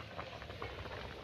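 A pot of potatoes boiling under a lid gives a low, steady bubbling rumble, faint and continuous throughout.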